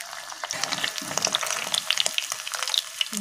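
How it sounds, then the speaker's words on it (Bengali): Paneer pieces frying in a pan of hot oil, a busy crackling sizzle with sharp pops and occasional stirring scrapes, close and steady throughout. "প্রত্যেকটা পনির ভেজে তুলে নেব"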